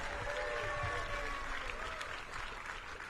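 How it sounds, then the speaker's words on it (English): An outdoor crowd applauds at a grand opening celebration of a sports fields campus, a muffled, continuous wash of clapping and crowd noise at moderate distance, with some voices mixed in. "Give another round of applause for Wayne Rooney"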